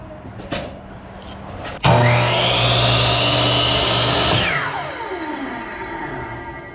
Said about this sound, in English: a piece of scrap wood that we're going to go ahead and mark and cut